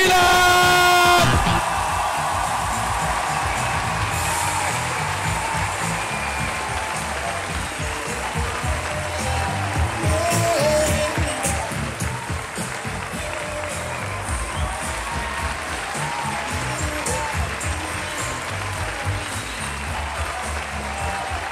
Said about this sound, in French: Mesdames et messieurs, un tonnerre d'applaudissements pour Karen Gillan!